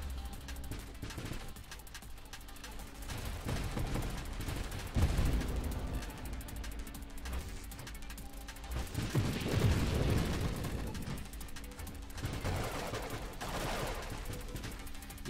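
Rapid bursts of gunfire from enemy ships aimed at the player's ship in the space shooter game Nova Drift, a dense, continuous clatter of shots with heavier booming swells.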